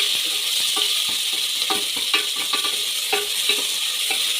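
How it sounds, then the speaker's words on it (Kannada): Chopped onions sizzle steadily in hot oil with cumin for egg biryani, with scattered scraping clicks of a spoon stirring them through the pan, close and continuous with no talk. "ಕಟ್ ಮಾಡಿ ರೆಡಿ ಮಾಡ್ಕೊಂಡಿರೋಂಥ ಈರುಳ್ಳಿ ಹಾಕ್ಕೊಳ್ಳಿ. ಲೈಟ್ ಬ್ರೌನ್ ಆಗೋವರೆಗೂ ಹುರ್ಕೊಳ್ಳಿ."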